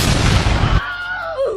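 A cartoon cannon fires when a crow swings it around: a loud, dense blast lasting under a second, then a thin whistling tone that wavers and slides downward as the shot flies off.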